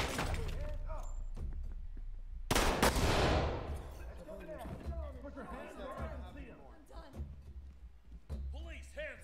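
Shotgun blasts boom during a tactical shooter match in the Ready or Not video game, with loud sharp gunfire bursts amid radio chatter and people talking over the action.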